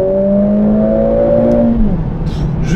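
Mercedes A45 AMG S engine revving hard and climbing toward the redline, a loud steady rising drone that peaks and then drops off as the revs fall, heard close with no talk.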